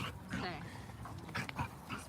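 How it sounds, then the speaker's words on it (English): A dog at a busy dog park gives short yips and whimpering barks close by, mixed with people talking over it. "The dog's just barking."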